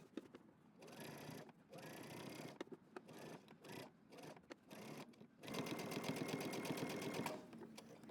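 A sewing machine topstitching a seam on a jeans jacket, running in short bursts of fast rhythmic needle clatter separated by pauses, then a longer steady run, heard close and at low volume.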